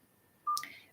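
A single short telephone keypad dialing tone beeps faintly, followed by a brief higher chirp, over near-silence.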